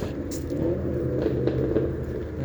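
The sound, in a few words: car engine revving loudly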